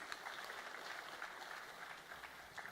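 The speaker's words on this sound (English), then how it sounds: "A huge round of applause," An award-ceremony audience applauds in a steady, dense wash of many hands clapping, heard faint and distant throughout without voices.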